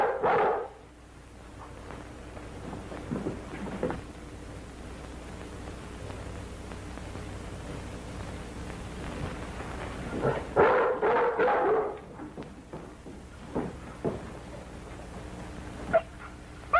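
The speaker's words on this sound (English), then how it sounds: "Maybe the dog has scented something." A dog barks in a few short bursts, loudest near the middle and again briefly toward the end, over a steady hiss of background static in an old 1930s western mystery.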